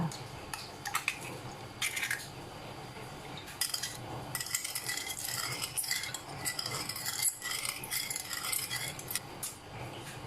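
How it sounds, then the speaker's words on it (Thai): A spoon stirring sugar into a mixture in a bowl until it dissolves makes repeated scraping swirls and light clinks against the container, fairly close. A soft voice is heard partway through. "ใส่น้ำตาล คนให้น้ำตาลละลายนะคะ"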